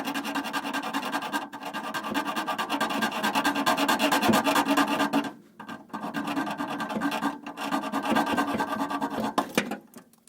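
Rusty brake pipe nuts on a Land Rover Defender are cut through with a rapid, rasping scrape that repeats steadily, stopping briefly a few times before starting again, close and fairly loud.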